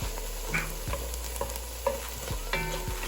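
Chopped garlic sizzles with softened vegetables in a pan, a quiet frying hiss broken by repeated clacks and scrapes of a spoon stirring at an uneven rhythm.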